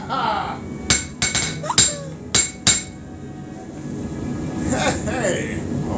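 Sharp metallic hammer strikes ring out in a blacksmith video game, six quick clanging hits in an uneven rhythm over a steady game soundtrack, then fading into quieter background noise.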